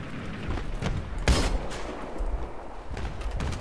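A Panzerfaust fired at a tank in the video game Battlefield 3: one sharp, loud blast stands out against a constant roar of battle, with other scattered shots and booms around it.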